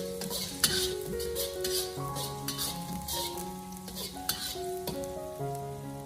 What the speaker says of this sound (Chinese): 下翘的姜葱用小火给它翻炒一下，把姜葱的香味给它翻炒出来